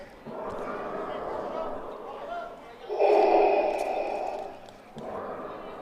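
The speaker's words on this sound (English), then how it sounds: "as we hear Darth Vader breathing" Heavy, rasping breathing likened to Darth Vader, caught near a varsity baseball quarterfinal game, coming in long, loud inhale and exhale surges with short pauses between.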